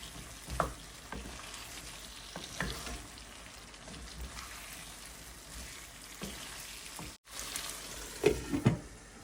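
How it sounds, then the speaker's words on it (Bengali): Flat beans and potatoes fry in a spice paste of turmeric, chili, cumin and coriander powder. A soft, steady sizzle runs throughout, broken by intermittent stirring knocks and scrapes, with no one talking. "সেখানে আমি সিম আলু অ্যাড করবো"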